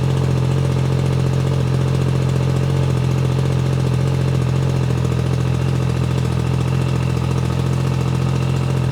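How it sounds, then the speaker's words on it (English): Motorcycle engine idling steadily right after a cold start, a loud, close, even low rumble that holds unchanged throughout with no voices over it. "That is a cold start."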